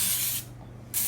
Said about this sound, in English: I always spray the bottom